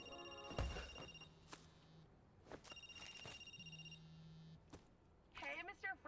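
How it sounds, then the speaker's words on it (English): A phone rings in the video game Cash Cleaner Simulator: two separate electronic ring bursts with tonal pulses, each followed by a low hum, and a voice speaks briefly near the end. "Check your phone. I sent you a message."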